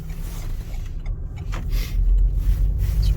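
Door locks on a 2016 Renault Kadjar mk1 1.6 diesel engage automatically as the car pulls away, brief mechanical clicks heard over a low engine and road rumble inside the cabin.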